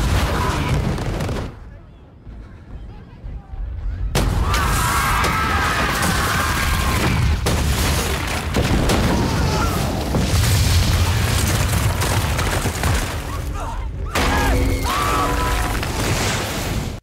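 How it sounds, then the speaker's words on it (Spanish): The sept explosion scene from Game of Thrones: a loud, sustained roaring blast with deep booming rumble, briefly dropping to near silence before the huge eruption takes over and rolls on to the end. "Las tres en ascensión hasta que el septo explota."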